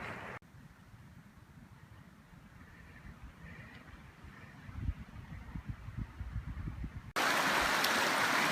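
A cold mountain creek on a Colorado high-altitude day hike, partly iced over, flows as a steady low rush. Soft thumps and crunches sit beneath it, then a loud, close surge of rushing water fills the final seconds.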